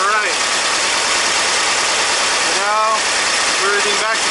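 Dual synced EMPI 40HPMX carburetors on a VW engine keep a steady, even idle close to the mic throughout, with someone talking over the engine.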